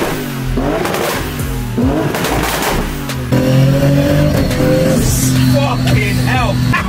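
A 2000 HP Nissan Patrol with a sequential gearbox revs hard at Dubai Autodrome, its engine climbing and dropping through loud surging pitch sweeps, with people talking over it.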